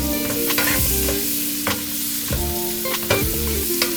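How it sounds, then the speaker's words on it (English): Shrimp sauté for curry shrimp pasta in a hot pan, a loud, constant sizzle broken by several sharp scraping stirs and flips, close up and with no voices. "all I'm going to do is just going to saute my shrimp real good"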